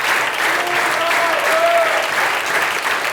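Audience at a German stage show applauding loudly and continuously, a dense, even clatter of many hands clapping, with a faint tone briefly rising above the clapping.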